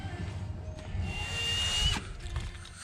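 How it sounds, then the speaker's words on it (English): A power drill whirs and bites while boring holes into a 24-foot pontoon boat, running loud and close with a rising pitch and brief pauses. "drill all the holes in there that we need"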